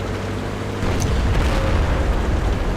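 A tank gun round slams into an enemy's lower plate in an IS-4 tank battle game, a heavy booming impact with a sustained rumbling roar that fills the whole stretch, no talk.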